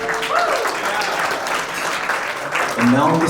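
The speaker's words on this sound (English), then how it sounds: "One more big round of applause for the best man." Wedding reception guests applaud the best man after his speech, a full burst of clapping that carries on through the moment while voices and crowd chatter rise over it.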